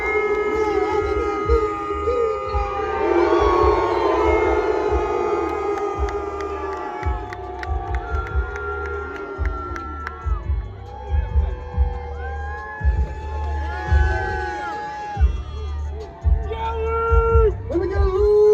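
A stadium crowd holds a long, rising "ooh" chant for an NFL linebacker, a sustained massed drone that fades into scattered shouts, rhythmic thumps and cheering.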